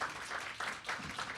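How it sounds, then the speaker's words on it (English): Audience applause for a moderator at a candidates forum, a dense, steady wash of clapping that swells in a few waves without a clear start or end, heard at moderate distance. "Let's give her a round of applause."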